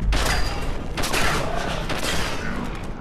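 A robot in Fallout 4 fires continuously in a loud, dense barrage of gunshots with a short dip in the middle.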